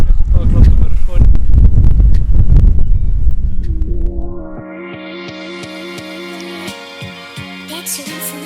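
Strong wind on a mountain top in the Tatras buffets the microphone with loud, low rumbling gusts for about four seconds, then drops away, leaving quieter tonal sounds.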